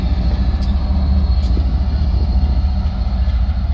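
Ferromex freight train passing, a steady loud low rumble of rolling railcars with continuous mechanical noise throughout, a couple of brief sharp hiss-like bursts, no talking.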